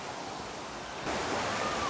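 Rushing water at Phnom Kulen pours as a steady broadband hiss, moderately loud, growing noticeably stronger and closer about halfway through, with no talking.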